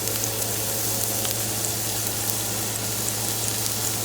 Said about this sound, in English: You want to start softening your vegetables.